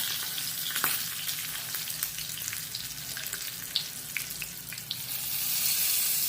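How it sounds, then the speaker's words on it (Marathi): A hot tempering of cumin and green chilli is poured over a chutney, giving a continuous crackling sizzle with scattered pops that swells near the end, close and steady. "आता आपण ही फोडणी आपल्या चटणीवर ओतूया।"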